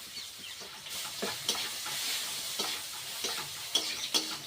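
Green chillies, onion, and ginger-garlic paste fry in hot oil with a steady sizzle, punctuated by repeated light scraping strokes and ticks of a stirring spoon.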